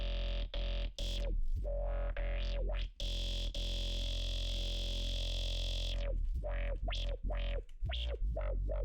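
A distorted, heavily processed synthesizer chord with reverb pulses in choppy bursts, then sustains with a washed-out, echoing tail before the stuttering returns.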